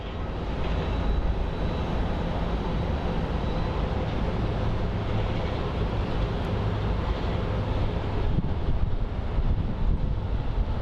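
A Boeing 777 airliner begins to roll at Phoenix Sky Harbor, a broad, constant engine rumble mixed with buffeting wind noise on the microphone, holding at an even level throughout.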